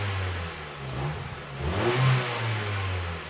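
A 2011 Ford Fiesta 1.25 Zetec petrol engine with an O2 sensor fault revs up from idle, rising in a couple of close, loud surges and then easing back, with no talking.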